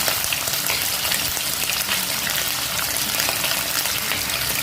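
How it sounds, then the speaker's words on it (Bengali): Chicken pieces frying in smoking-hot oil for methi chicken, a loud dense crackling sizzle that holds steady throughout, close up with no talk. "এবার আমি এতে একে একে চিকেনের পিসগুলো কয়েকটা করে দিয়ে ভেজে নেব"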